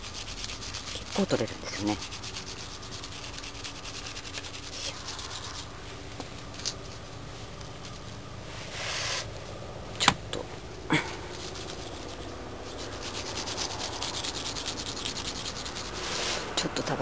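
A brush scrubs scale insects off a cactus in quick, repeated rasping strokes, close and steady, with a few sharper knocks and a person briefly speaking.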